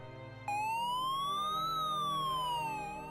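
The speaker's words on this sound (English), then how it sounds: "In the background, we could hear approaching sirens." A siren abruptly starts and wails steadily, its pitch sweeping slowly up then down, loud and continuous over a low background rumble.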